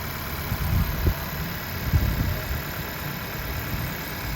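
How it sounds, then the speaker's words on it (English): A Honda CR-V engine idles steadily with a low, even hum and a couple of slightly louder throbs, heard up close without any talking. "Satwant, here's a quick video for you with the engine running in the CRV"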